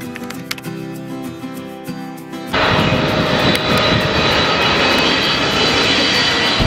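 An airliner's engines at Shenzhen airport build from a steady hum into a loud, broad roar, as during a takeoff run heard from inside the cabin, continuing strongly to the end.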